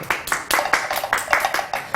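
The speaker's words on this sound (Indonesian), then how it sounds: "Tepuk tangannya dulu, ya seperti itu" Hands clapping at a magic show, a steady run of about eight or nine sharp claps in an even rhythm, fairly close and alone.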